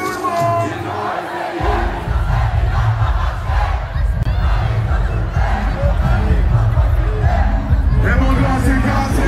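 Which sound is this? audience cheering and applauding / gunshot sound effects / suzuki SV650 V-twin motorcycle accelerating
audience cheering and applauding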